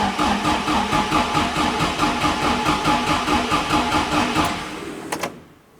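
Ford Escort RS Cosworth engine running steadily with a rhythmic mechanical pulse, loud and close, then cutting off abruptly near the end into quiet.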